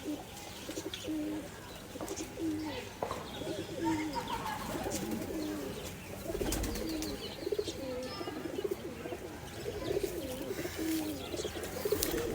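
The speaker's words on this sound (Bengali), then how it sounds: "দেখুন, এই যে রেগদার কবুতর এগুলো। এর মা বাবাও আছে আমার কাছে।" Regdar pigeons, with their young nearby, coo softly in low, throaty, repeated calls, with a few faint chirps over a quiet background.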